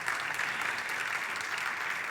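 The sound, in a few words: congregation applause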